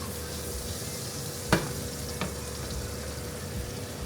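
Marinated steaks cooking in butter in a pan give a steady close sizzle and hiss, broken by one sharp clack and a fainter knock, with no voices.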